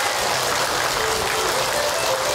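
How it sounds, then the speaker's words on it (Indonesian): Studio audience of women clapping together on an Indonesian religious talk show, a steady dense wash of applause that fills the whole moment without pause. "Tepuk tangan buat ibu semuanya."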